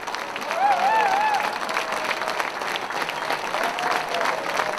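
Concert audience at an outdoor music-festival stage in Piatra Neamț, applauding steadily and densely throughout, with a voice calling over the crowd early on.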